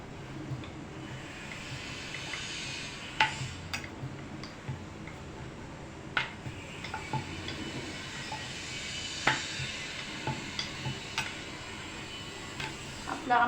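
A pot of spicy Khandeshi patodi amti curry boils on the stove, giving a steady bubbling hiss with scattered small pops and ticks throughout.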